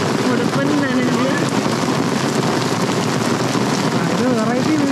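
Rain pours steadily at the Ulun Danu Beratan floating temple in Bali, a dense, even hiss throughout, with faint voices murmuring underneath.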